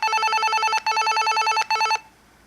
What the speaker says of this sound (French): On peut mettre une sonnerie.